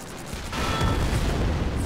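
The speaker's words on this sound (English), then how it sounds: "Oh, explosion!" An explosion booms in the World War II strategy video game Men of War: Assault Squad 2, a sudden loud blast that swells into a sustained rumbling roar with crackling debris, filling the short stretch without speech.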